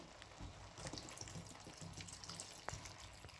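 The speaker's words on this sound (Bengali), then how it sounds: "এইবারে জল দিয়ে দিচ্ছি" Water is poured into a pot of vegetable soup, a faint, continuous splashing trickle with small drips and a single sharper splash near the end, heard alone without voices.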